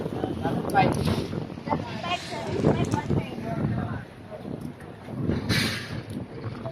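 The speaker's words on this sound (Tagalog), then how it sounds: "Lakas ang hangin." Strong wind buffets the microphone in a steady roar on a boat crossing to Alabat, with boat and water noise underneath and people talking throughout.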